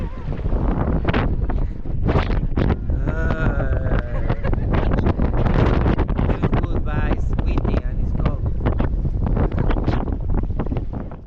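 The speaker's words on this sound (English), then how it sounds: "Very windy today" Strong wind buffets the microphone on an Egypt tour boat, a constant loud roaring rush with gusty flutter, and voices are faintly heard beneath it.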